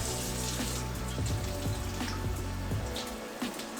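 Tap water runs steadily into a sink while raw beef tripe for tacos is rinsed, a close, continuous splashing rush with a few knocks and sloshes before it eases off at the end, no talking.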